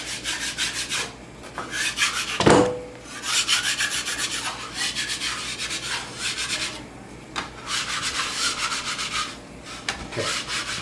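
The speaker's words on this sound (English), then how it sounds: "Now you need one of these, pastry scraper, just to go around the edge." Pastry scraper scraping around the edge of a rolled pie crust to loosen it, a close, repeated rasping rub in steady strokes with brief pauses and a couple of sharper knocks.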